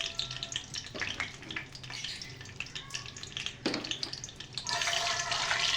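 Mustard seeds and fenugreek seeds fry in hot oil for a brinjal curry, giving a soft, steady sizzle with crackles and occasional stirring scrapes. The frying grows louder and brighter toward the end.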